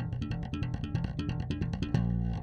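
A slap bass triplet lick repeats over and over, each crisp popped and thumbed note group recurring in an even, looping rhythm, played alone and close.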